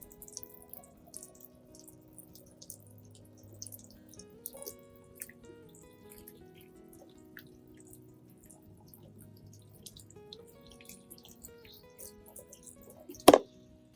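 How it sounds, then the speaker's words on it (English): A gentle stream of tap water rinses an orchid stem, making faint trickling and dripping sounds with soft irregular splashes, then a sharp louder splash or clatter near the end. "A gentle stream of water cleans naturally without harming the plant, while also cooling the plant after trimming."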